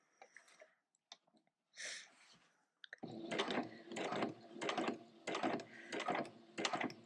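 A sewing machine stitches a fabric appliqué on a cushion, running in several short bursts of fast rhythmic mechanical chatter after a few quiet clicks and a brief fabric rustle, close and clear.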